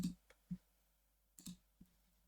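A computer mouse gives a handful of soft, close clicks in an irregular rhythm, quiet and alone.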